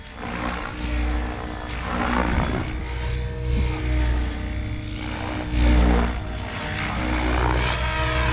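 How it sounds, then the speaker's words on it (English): Steady rotor and engine drone of a radio-controlled model helicopter on its maiden flight, continuous and fairly loud, with slight swells in intensity throughout. "So I'm flying the helicopter to see how I like it."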